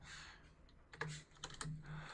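Quiet close-up typing on a computer keyboard, a short irregular burst of soft key clicks and taps with no talking.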